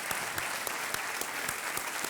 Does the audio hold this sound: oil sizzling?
no